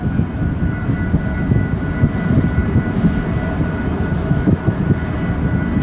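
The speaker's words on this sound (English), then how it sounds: "Again, this is an eastbound. They're empty auto racks." An eastbound freight train of empty auto racks rolls past in a steady, continuous low rumble and clatter, close and loud throughout.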